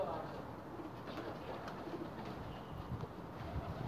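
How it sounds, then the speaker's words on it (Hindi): A Firozpuri breeder pigeon coos softly amid a low, noisy background, its faint murmuring calls barely standing out and heard close but quiet. "ये जनाब फिरोज़पुरी कबूतर है जी मेरा माशाल्लाह।"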